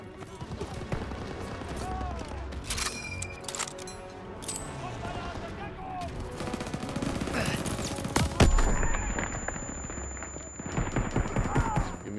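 Machine gun fire in the Call of Duty WW2 campaign, Operation Cobra: dense, rattling bursts of automatic gunfire mixed with other shots and battlefield noise throughout, with a loud blast near the middle and voices breaking through.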